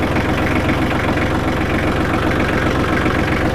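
A small tractor engine idles nearby with a steady, low chugging rumble that holds even throughout, with no talking.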